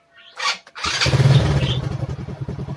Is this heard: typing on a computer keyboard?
no